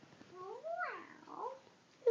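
A young child imitates a cat's meow once, a drawn-out, rising and falling mew close by in a quiet room, followed by a short sound at the end.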